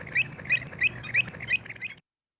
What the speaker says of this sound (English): this is what you hear when they're driving off the gulls